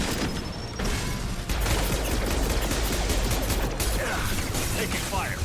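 Rapid sci-fi gunfire in the Mass Effect 2 video game, a dense continuous rattle of shots with mechanical clatter and occasional impacts, loud and sustained throughout.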